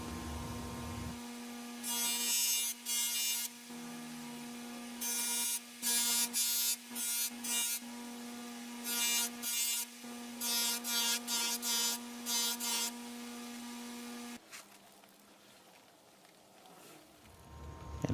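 A firm buffing wheel charged with a big block of beeswax polishes a forged full-tang knife handle, a steady motor hum under loud bursts of rasping contact that come and go, then a quieter run-down near the end.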